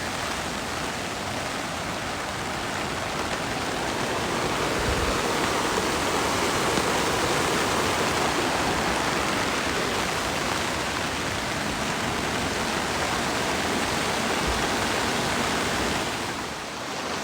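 Floodwater in Japan rushes after rain, a steady broadband roar of flowing water that holds loud and even throughout, swelling slightly in the middle and easing at the end, with no voices.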